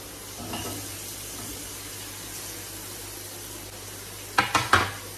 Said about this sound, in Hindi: ये हमारा चिकन जो है ये फ्राई हो रहा है।